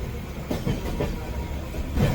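Superfast Janshatabdi express train between Mumbai and Ratnagiri heard from inside a carriage, a steady loud rumble with rhythmic clicks of wheels over rail joints, no talking.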